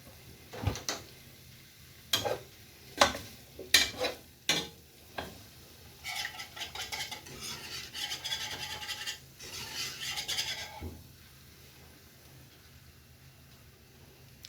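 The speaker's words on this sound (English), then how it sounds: "I'm going to keep stirring and come back to it when I finish the right consistency of the white sauce." A utensil stirring white sauce in a pan for a baked veggie casserole: close scraping strokes and knocks against the pan, first in separate taps and then in a steady, rasping run of stirring that fades to quiet.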